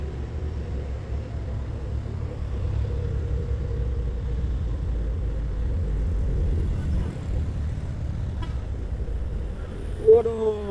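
A white Nissan truck labors up a steep hill, its engine giving a loud, steady low rumble that strains under load throughout, with a brief sharp noise near the end.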